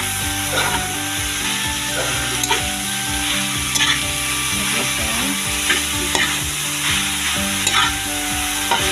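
Mushrooms with malunggay sauté in a pan, a continuous loud sizzle broken by repeated scraping and stirring strokes from a utensil, with no talking.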